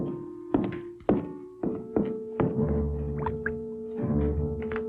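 A heavy incubation machine set down in a series of dull thunks and knocks, several distinct impacts spaced about half a second apart, close and fairly quiet.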